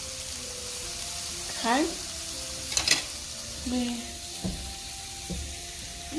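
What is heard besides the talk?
shrimp sautéing and sizzling in a pan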